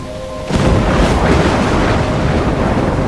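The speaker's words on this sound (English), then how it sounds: "I'm trapped in a storm?" A thunderstorm rages in the video game Life Is Strange, opening with a sudden heavy thunder boom and then a loud, sustained roar of wind and rumbling storm noise close around the listener, with no speech.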